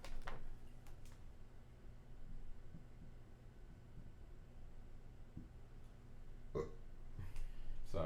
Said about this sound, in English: Sorry, I keep burping.